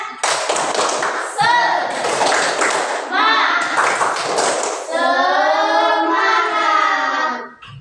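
A classroom of children chants together while clapping in a steady rhythm during an Indonesian school lesson, with loud, close bursts of claps alternating with sung voices.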